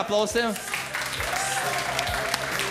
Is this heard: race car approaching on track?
no